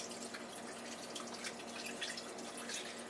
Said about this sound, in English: So I'm going to get this open here, pour it in.